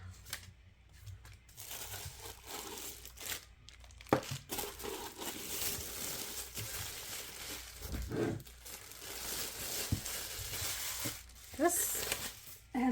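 Packaging material crinkles and rustles continuously as a vacuum chamber is unpacked, with sharper tearing and crunching bursts near and fairly loud throughout.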